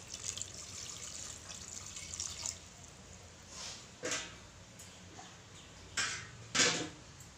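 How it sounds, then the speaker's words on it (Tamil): Water is poured into a pressure cooker over vegetables for a vegetable kurma, a soft running and splashing stream with a few louder splashes toward the end. "நம்ம தேவையான அளவுக்கு தண்ணி ஊற்றிக்கலாம்."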